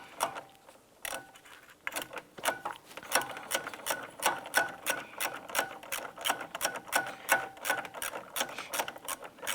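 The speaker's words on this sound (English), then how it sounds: "Use your ratchet, and we want to snug all these down." A ratchet tightening bolts on a 2005-2007 Ford Five Hundred AC condenser gives quick repeated clicking strokes in steady bursts, close and clear with no talk.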